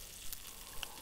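Bacon sizzling in a frying pan as a radio play effect, a soft continuous hiss and crackle with a few sharper pops, steady and quiet with no voices.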